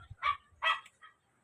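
A dog barks twice in quick succession, fairly faint and a little distant, followed by a softer short yip in an otherwise quiet setting among chickens in a housing area of Barangay 128.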